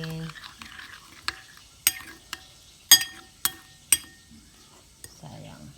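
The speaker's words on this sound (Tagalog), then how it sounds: "Haluin." A utensil stirs a cucumber salad of vinegar, sugar, salt, pepper, garlic and onion in a bowl, giving a few sharp clinks against the dish over a soft low background, close by and with no voices.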